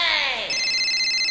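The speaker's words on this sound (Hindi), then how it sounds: "किसी बिजली का फोन आ रहा है।" A telephone rings with a bright electronic bell tone, a short falling sweep followed by steady repeated high trilling, loud and close in a comedy sketch setting.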